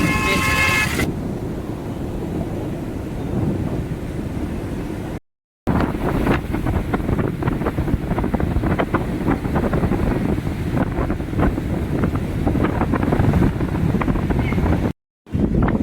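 Sea waves and blustery wind at Puri beach, a steady roar of surf with heavy wind buffeting the microphone throughout, briefly cut by two short gaps.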